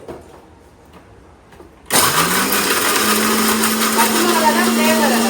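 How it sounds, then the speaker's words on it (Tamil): Mixer grinder switching on abruptly after a quiet stretch and grinding green chillies and rock salt, a loud, close, steady high-pitched whir that continues unbroken to the end. "இதை அப்படியே அரைச்சு ஊத்திக்கலாம் ஒரு பாத்திரத்துக்கு"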